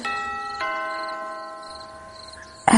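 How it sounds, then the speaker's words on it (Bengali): A doorbell rings as a sound effect in a horror audio drama, giving two chiming tones that sustain and slowly fade. It sounds moderately loud and clear, and a brief noisy burst cuts in at the very end. "পাশের বাড়িতে কেউ যেন কলিং বেল বাজালো।"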